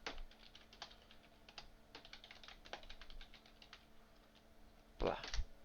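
Someone types a search on a computer keyboard, a quiet run of uneven, close-up key clicks. It ends in a louder clattering burst of keystrokes near the end, with no talking.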